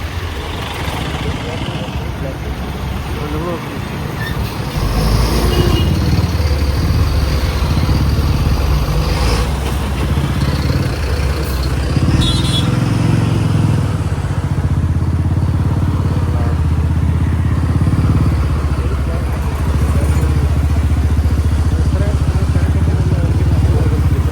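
Congested road traffic on the Kalathukal–Kachani road with motorcycles, buses and lorries packed together: loud, continuous engine rumble and clatter close by, swelling midway, with voices talking over it.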